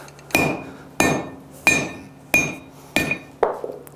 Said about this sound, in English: And I'll cut it off on the anvil.